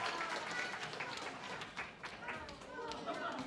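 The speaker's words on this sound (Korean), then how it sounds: "박수로 환영합시다" Audience in a youth church worship service applauding to welcome two people onto the stage, a dense steady wash of clapping with crowd chatter mixed in, fairly distant and moderate in level throughout.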